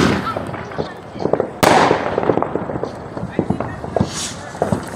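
Home fireworks set off at people's houses in Las Vegas on the Fourth of July: repeated sharp pops and crackles with one loud nearby burst, continuing amid background voices.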